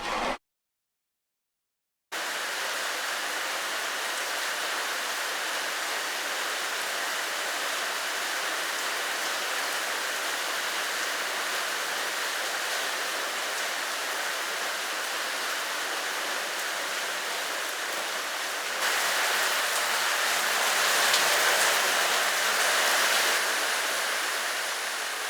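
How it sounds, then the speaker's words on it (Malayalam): Heavy rain pours in a steady, dense roar that fills the air without a break, swelling slightly louder toward the end after a brief silent gap at the start. "ഗംഭീര മഴ"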